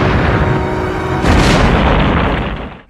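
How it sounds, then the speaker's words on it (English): A loud, sustained explosion blast from the 1974 James Bond film The Man with the Golden Gun, a dense roaring boom that swells midway and rumbles on for a few seconds before fading. "we finally get to see an explosion"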